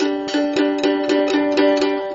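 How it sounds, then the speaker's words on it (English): A mandolin with strings tuned in octaves picks a steady run of bright, doubled notes, about eight evenly spaced strums ringing together with a shimmering, octave-like fullness. "I have seen mandolins tuned in octaves, so it sounds kind of like this"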